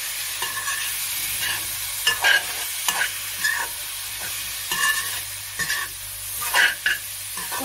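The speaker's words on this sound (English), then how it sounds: "Now we add potatoes and tomatoes to that. And stir properly." Potatoes and tomatoes stirred into a slow-cooked lamb curry: a spoon scrapes and clatters in repeated strokes against the pot over a steady low sizzle of frying masala, heard up close with no talking.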